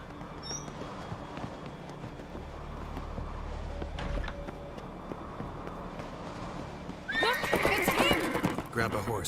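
A horse in The Witcher 3 video game gives a loud, close whinny near the end, after a stretch of steady game ambience with faint hoofbeats.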